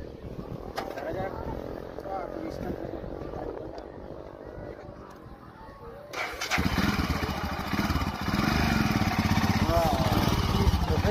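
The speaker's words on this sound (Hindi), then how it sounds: "আমি আজকে হিমালয় বাইক চালাচ্ছি" Royal Enfield Himalayan motorcycle engine running loud and close, a steady rumble that swells sharply partway through as the bike accelerates, with some talk mixed in.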